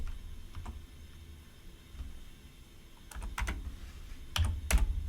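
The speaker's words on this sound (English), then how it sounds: "So I'm gonna just type both of them." Keys clack on a computer keyboard in quiet, irregular bursts, with a few sharper clusters of keystrokes near the end and no voice over them.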